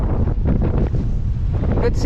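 Gusty shoreline wind buffets the microphone with a steady low roar, broken by a few brief voices and a faint high whistle near the end.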